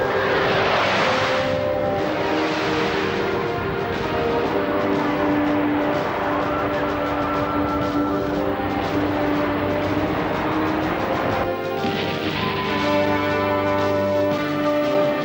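A cartoon spacecraft launch effect from the animated series Space Thunder Kids, a loud continuous roaring rumble like a jet engine that holds throughout with swelling surges.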